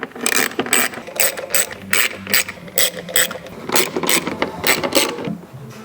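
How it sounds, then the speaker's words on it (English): A ratchet backs out T27 bolts from a factory panel on a Grenadier, heard up close as a steady run of sharp, rapid clicking bursts with short pauses between turns. "So I'm just going to work my way around and take this whole thing off."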